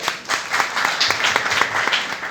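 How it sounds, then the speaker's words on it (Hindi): A gathering at a Holi get-together in Soni Dharamshala, Ganganagar, applauds DSO Rakesh Soni with lively, close clapping whose individual claps pulse through a continuous burst. "इसके लिए जोरदार तालियां बजाइए"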